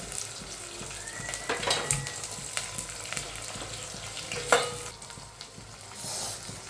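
Curry leaves and capsicum frying in a pan, a continuous close sizzle broken by spatula scrapes and stirring knocks, with a brief louder clatter near the end.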